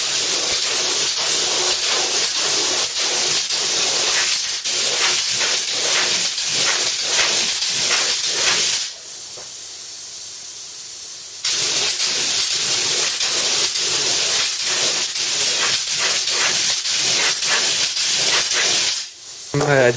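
Hammerite paint is sprayed onto a Ford Cortina GXL during a rebuild, a loud, close hiss in repeated bursts with a brief pause midway before the spraying resumes.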